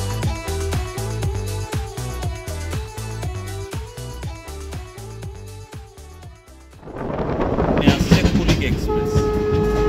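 The 13161 Kolkata Balurghat Tebhaga Express passing on the line near Bardhaman, with a steady rhythmic clickety-clack of wheels over rail joints that gives way to a louder, rushing roar as the train sweeps close.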